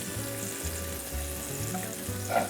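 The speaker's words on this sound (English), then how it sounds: "I'm going to crisp up some pancetta, some Italian bacon." Thin-sliced pancetta, Italian bacon, frying and crisping in a pan, giving a steady close sizzle and crackle with low bubbling throughout and no voices.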